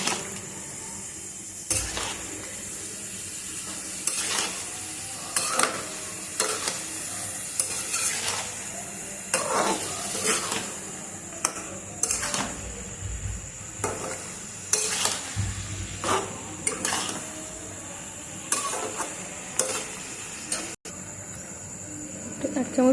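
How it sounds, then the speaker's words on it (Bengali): Soybean chunks cooking with a little water and spices in a pan, stirred steadily: a soft sizzle runs throughout while repeated scraping strokes of a spoon against the pan come in an irregular rhythm, close and moderately loud. "জল দিয়ে এবার সয়াবিনটাকে কষিয়ে নেব"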